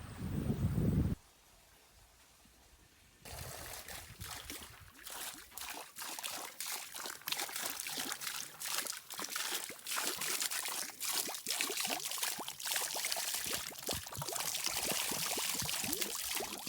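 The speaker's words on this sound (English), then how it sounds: "I go right to the source, right to Johnson Spring to fill up my water bottles." Spring water trickling and splashing into water bottles at a woodland spring in the North Woods, a continuous close wet patter with bubbly gurgles after a brief quieter pause.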